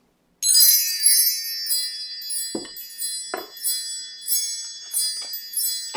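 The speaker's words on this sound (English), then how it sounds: "Let's start with a little wind chime time." Metallic wind chimes ring out in bright, shimmering clusters, with a few soft low knocks between strikes, sounding alone and fairly close with no talking.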